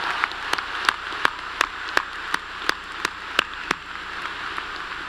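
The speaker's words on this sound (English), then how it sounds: "Will you please give a big, loud round of applause to Ansley for the great job she did singing" Applause at a university graduation ceremony rolls on as a soft, continuous patter, with a few sharp, louder claps standing out at regular intervals close by.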